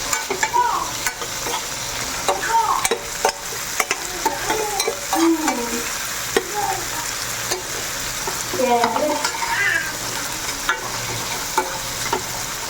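Semiya (vermicelli) frying in a pan with tomato, a continuous moderate sizzle with intermittent scraping and stirring clatter, while music plays softly beneath.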